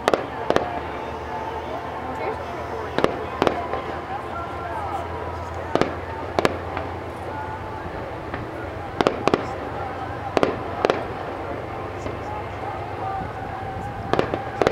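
Sharp fireworks bursts crack out irregularly, some in quick pairs, over a steady murmur of crowd and background noise outdoors on the Fourth of July at Walkway Over the Hudson, Poughkeepsie.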